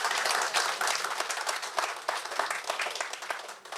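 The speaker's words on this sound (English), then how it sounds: "Give him a round of applause" Steady applause from an audience at a community tribute ceremony honouring Pistons players, dense clapping sustained throughout at moderate volume with no voices over it.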